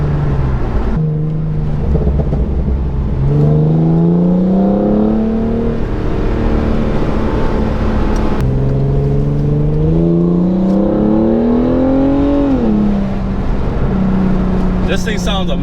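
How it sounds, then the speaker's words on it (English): A Hyundai Genesis Coupe 3.8 V6's custom-tuned exhaust drones and rises in pitch as the engine revs through two long pulls, heard from inside the car, loud and steady. "You guys can probably hear that exhaust noise."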